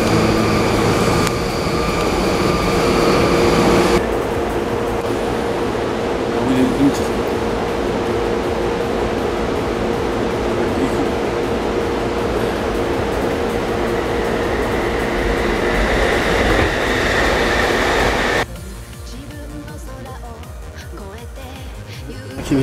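A train at a railway station in Japan, a loud steady rumble with hiss and mechanical whine that continues for most of the stretch before dropping to quieter station ambience near the end.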